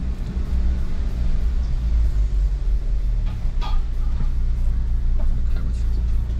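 A Tank 300 SUV rolls off-road on hill-descent control, its engine and tyres giving a steady low rumble heard from inside the cabin, with a few faint knocks and no clear talk.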